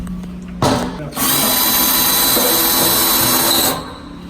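A power drill set to low torque drives screws into corrugated hurricane shutters, a short burst followed by a longer steady whir, loud and close, with no voices over it.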